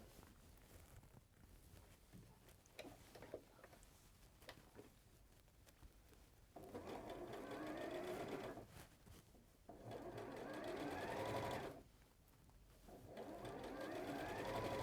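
Domestic sewing machine stitching a quarter-inch seam on a pastel hexagon purse, running in three sustained bursts with quieter pauses between, close and fairly loud.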